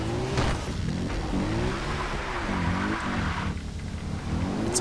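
A vehicle engine in Far Cry 3 revs and drives steadily, its pitch wavering up and down with gear and throttle changes, loud and continuous with a few brief scraping bursts.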